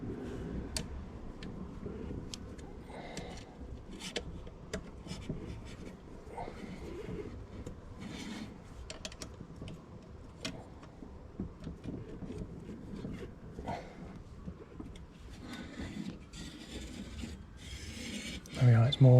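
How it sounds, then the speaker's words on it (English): A disc brake rotor rubs against its brake pad, giving a steady, close scraping rasp with faint rhythmic ticking as the wheel turns, and a louder knock right at the end. "it's more uniformly rubbing"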